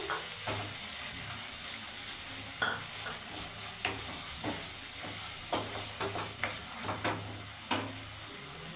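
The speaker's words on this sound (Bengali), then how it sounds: "পেঁয়াজ আর বাদামটা আমি হালকা একটু অল্প লেড়ে দিচ্ছি তারপরে এরপরে আমি নারকেল কুচুগুলো দিয়ে দিচ্ছি" Onion, peanuts and chopped coconut fry in oil in a pan with a constant close sizzle, while a spoon stirs and scrapes them in irregular strokes with occasional light knocks against the metal.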